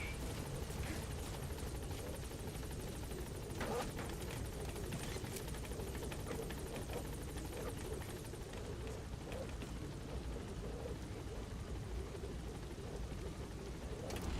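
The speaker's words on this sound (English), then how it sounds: "This is Pequod. Arriving shortly at LZ." Pequod transport helicopter arriving in Metal Gear Solid V: The Phantom Pain, a steady loud rotor and engine roar that fills the whole stretch with a constant rumbling drone.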